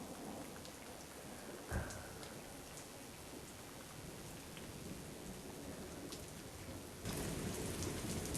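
Steady rain pours down in a theatre performance's sound effect, joined by a sharp thunder crack early on and a heavier burst of downpour near the end, with no voices.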